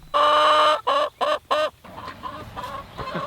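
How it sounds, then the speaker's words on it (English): A hen clucking after laying an egg: four loud, close, drawn-out squawking clucks in quick succession, then softer, scattered clucks trailing off. "seeing a chicken actually lay an egg like that"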